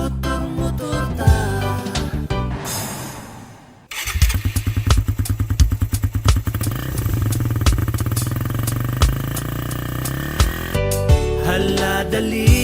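A motorcycle rides along a road on a trip from Rizal to Guimaras, its engine running steadily and close with repeated revving pulses, a brief drop midway, then a sustained drone under music.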